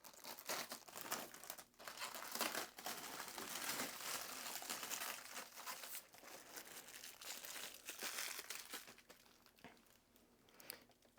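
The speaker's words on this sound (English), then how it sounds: "Pull off this little bit of packaging on the top that's taped on" Taped packaging is peeled and pulled off a Shark 3-in-1 air purifier, a quiet, close run of crinkling, tearing and crumpling plastic in uneven bursts, with no talking.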